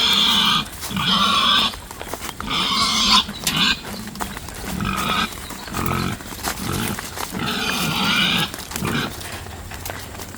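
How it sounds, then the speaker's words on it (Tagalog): A pregnant sow near the end of her term, close to farrowing, grunts and snorts repeatedly in loud, close bursts, with brief pauses between clusters of rough noise. "yung isang baboy po ni Teklits, manganak na po ngayong katapusan."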